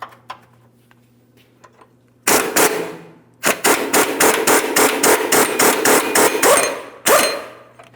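A hammer striking a punch to drive out the lower control arm mounting bolts on a 2007-2014 GMC Sierra 2500 HD, with a single loud whack, then a fast series of about a dozen ringing metallic blows, and one final hit.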